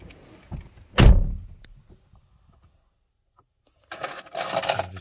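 A Renault Clio car door opens and slams shut with a single loud thump, followed by quiet rustling, then a stretch of near-silence before shuffling and handling noises as someone settles into the seat.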